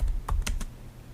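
Several quick keystrokes on a computer keyboard, three or four distinct clicks in a short burst, close and clear with no talking.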